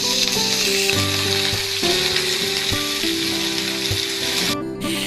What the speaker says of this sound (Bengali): বেগুনটা ভাজা ভাজা হয়ে এসছে